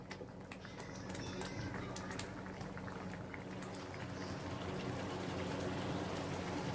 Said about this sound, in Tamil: இது நல்லா கொதிச்சு வரட்டும்